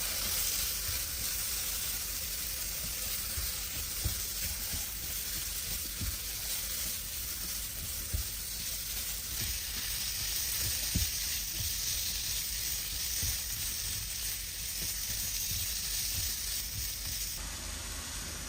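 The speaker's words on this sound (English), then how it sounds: "Add the shrimp and cook for 2 minutes." Shrimp sizzling in a hot pan during a stir fry with vegetables, a steady bright frying hiss lasting throughout with occasional small pops and stirring sounds, no voices.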